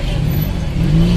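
Regal Raptor 250cc motorcycle engine accelerating in city traffic, a loud, close, steady drone whose pitch climbs slightly toward the end, with no talk over it.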